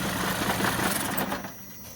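A Leyland Dost engine runs steadily just after starting, a close, continuous mechanical chug with a rapid knocking rhythm that thins out near the end.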